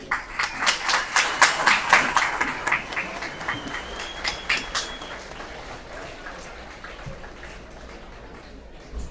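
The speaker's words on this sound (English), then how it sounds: "that deserves a huge round of applause" A crowd at a school booster club kick-off BBQ gives a round of applause, distinct claps at first building into steady clapping that fades away over several seconds, heard from a moderate distance.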